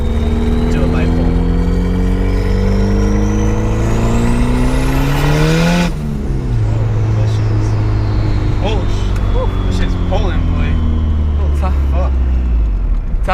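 A tuned street car revs hard and pulls through the gears, a loud, close engine note climbing steadily with a sharp shift partway and then building again without a break.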